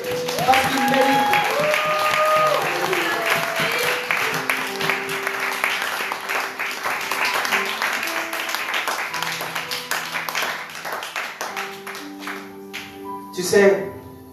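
A church congregation applauds in worship, a rolling wash of clapping mixed with voices and sustained musical tones that fades somewhat toward the end, with a brief louder burst near the close.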